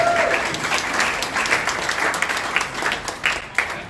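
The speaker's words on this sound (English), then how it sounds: "That deserves a big clap" Warm applause from guests at an afternoon drinks gathering for a Liberal preselection candidate in Wakehurst, New South Wales, a moderately loud wash of many hands clapping at once, steady throughout with a few sharper claps standing out.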